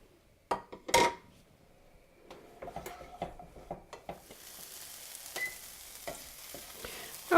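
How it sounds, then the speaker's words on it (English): Sliced mushrooms and peppers frying in a pan for a vegetable frittata, with a soft sizzle building under sharp clinks and scrapes of a utensil stirring against the pan, close and intermittent. "I'm also going to add 1 cup of sliced mushrooms"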